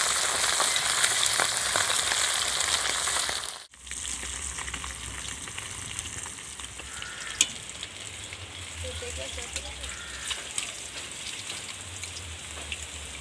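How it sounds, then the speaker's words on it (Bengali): River khoira fish frying in oil in a pan, a dense crackling sizzle close and steady, briefly cut off before resuming with scattered pops and light stirring. "এই মাছ একটু বেশি করে ভাজবো, কারণ ভাজা মাছ কোড়া কোড়া খেতেই ভালো লাগে।"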